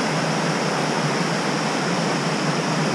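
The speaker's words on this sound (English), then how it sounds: "Beautiful waterfall." A mountain waterfall on the Isle of Skye pours in a steady, dense rush of white water, close and constant with no voices or other sounds.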